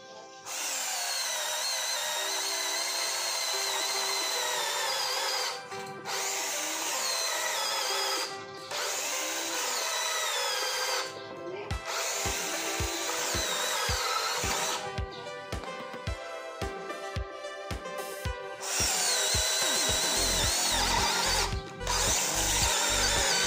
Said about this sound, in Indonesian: Uji coba kedua saya menggunakan mata bor auger 10 mm ya. Ini saya gunakan pada percepatan nomor 2, modenya mode drilling.